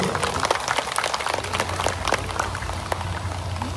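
An audience at a Sidenreng Rappang regency education gathering breaks into dense, continuous applause, many hands clapping at once from across the hall for several seconds, with no voice standing out over it.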